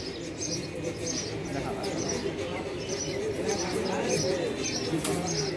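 Pigeons coo softly amid a busy crowd murmur at the Katakhali pigeon market in Rajshahi, Bangladesh, with faint chirps above the steady hubbub of voices.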